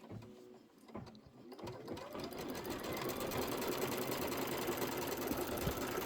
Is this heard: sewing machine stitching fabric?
yes